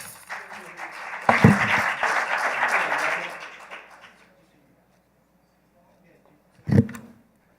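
Audience clapping at a Monday staff huddle meeting: a short burst of applause for under three seconds that dies away into silence, followed by a brief close noise near the end.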